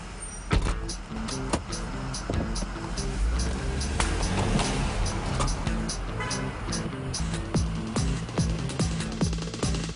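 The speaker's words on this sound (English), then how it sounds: "I'm going to get in the car, put it in sport mode, and punch it." A car set to sport mode accelerates hard, its engine note rising and droning while repeated knocks and clunks punctuate the run, loud and close throughout.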